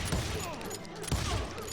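Gunfire in the Western shooter game Call of Juarez Gunslinger comes as a few quick shots and a burst amid combat noise, fairly quiet, while a voice shouts over it.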